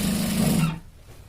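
An electric sewing machine stitches a shirt collar in one rapid, buzzing run for most of a second, then stops abruptly, leaving a quiet room.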